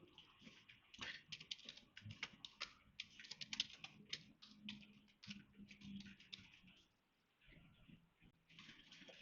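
Someone types a web address on a computer keyboard, a quiet, rapid patter of key clicks in irregular bursts, broken by a short pause before the tapping resumes.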